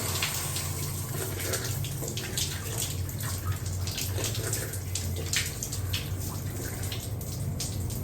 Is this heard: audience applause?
no